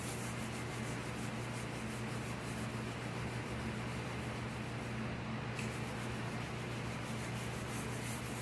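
Steady hand sanding rubs back and forth over a motorcycle part coated in high build primer, a close, continuous scratchy rasp that keeps an even, repetitive rhythm from start to finish.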